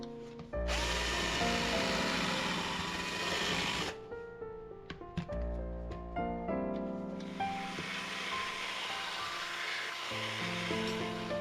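A power drill spins an abrasive cleaning ball inside a part, whining loudly in bursts separated by brief pauses and pitch shifts as it slows and restarts, close up with no talking.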